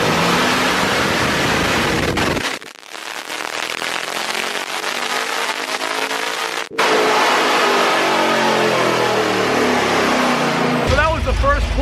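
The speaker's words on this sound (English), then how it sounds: "So that was the first pull on the RPM intake, the 5-inch intake, and it picked up about 35 wheel horsepower." On a chassis dyno, a car fitted with a 5-inch RPM intake makes a loud full-throttle pull, its engine note climbing steadily through the revs for several seconds after a brief dip before the run.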